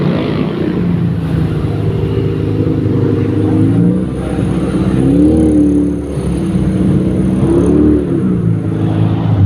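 A Honda Civic with a VTEC engine passes by, its engine note rising and falling through several revving swells over a steady road rumble, fairly loud and with no talking.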